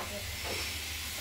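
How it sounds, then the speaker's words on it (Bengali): Figs boiling in a pot with spices and potatoes give a steady, moderately loud bubbling hiss and steam rush throughout, with no talk over it. "এখানে আমরা এই ডুমুরগুলা ডুমরা গুঁড়াগুলো সিদ্ধ করছি"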